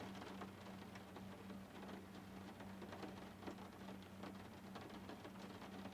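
Rain falling in a VRChat video game world, a faint steady patter and hiss with a low hum beneath, continuous and without talk.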